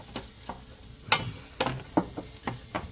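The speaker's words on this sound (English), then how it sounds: "So I got about a tablespoon of oil, half an onion. I'm just going to start sweating that here." Half an onion starts sweating in about a tablespoon of oil in a pan over medium to medium-high heat, giving a soft sizzle broken by several sharp scrapes and taps of a utensil stirring, close up, with no talking.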